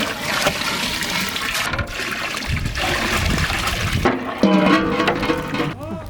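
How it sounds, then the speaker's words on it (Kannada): Water poured into a cooking pot of rice for a village-style veg dum biryani, a steady close splashing and trickling pour running throughout, with some clatter near the end. "ಅಕ್ಕಿಗಿಂತ ಡಬ್ಬಲ್ಲು ನೀರು ಹಾಕೋತಾ ಇದ್ದೀವಿ."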